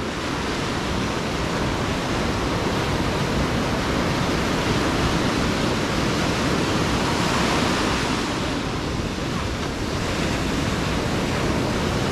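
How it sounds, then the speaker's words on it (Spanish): Ocean surf rolls onto the beach at Playa del Carmen, a dense, continuous wash of breaking waves, loud and close, with no voices over it. "Se escucha muy padre el sonido de la ola."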